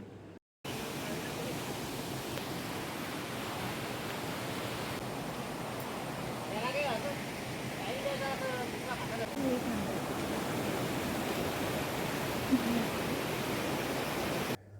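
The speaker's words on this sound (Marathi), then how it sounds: "मंदिरातून बाहेर पडताच नदीचा खळखळणारा आवाज ऐकायला आला" Steady broadband rush of a river flowing near Wari Hanuman temple, a continuous close water wash with faint brief higher sounds and possible distant voices.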